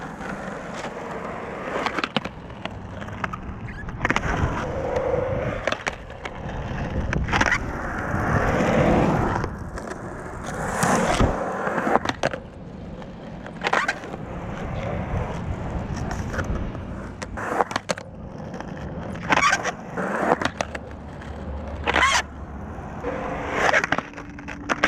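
Skateboard wheels roll and grind over stone, dirt and debris, with rough rumbling passes broken by repeated sharp clacks and impacts from the board, fairly loud and close, no talk.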